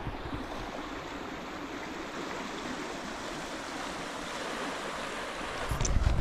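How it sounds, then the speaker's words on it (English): Creek water flows steadily at a winter backcountry trapline in the early morning, a continuous close rushing wash, with a louder splash or disturbance near the end. "Actually, it's not the river, it's the creek."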